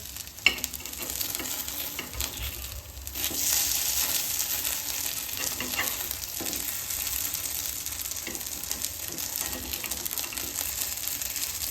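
Stuffed sabudana vadas fry in a small amount of oil in a pan, giving a steady, close, bright sizzle that crackles on without pause for about twelve seconds.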